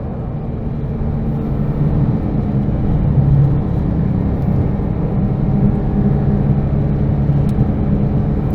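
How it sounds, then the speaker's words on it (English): Steady, loud rumbling road drive of a Porsche 911 997 GT3 RS on twisty back roads, the engine and tire roar holding an even level throughout with no voices. "This car moves down the road very quickly."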